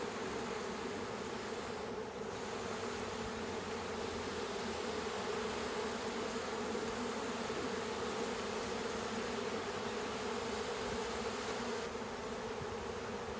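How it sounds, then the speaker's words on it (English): Worker honey bees drone steadily at an open hive during an inspection, a dense, continuous buzz that holds at even loudness throughout with no talking. "Worker bees are busy working."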